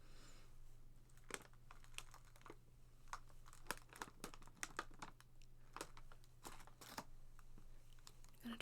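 Butter rum Lifesavers candy wrappers crinkle and crackle up close in soft, irregular bursts of sharp snaps and rustles, quiet against a low background hum.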